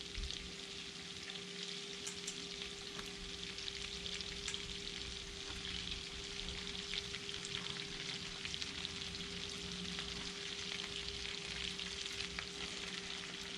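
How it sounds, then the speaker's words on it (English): Large Texas Gulf Coast shrimp sizzle steadily in a pan with a garlic and onion base, a dense, constant frying hiss with a faint steady hum underneath and no one talking. "I'm going to start adding these shrimp in."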